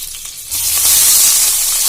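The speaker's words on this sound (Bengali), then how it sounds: "এবারে এতে আমি সয়াবিনগুলো ভেজে নেব।" Boiled, drained soybean chunks hit hot oil in a pan and burst into a loud, close sizzle that swells after a quiet half-second and holds steady.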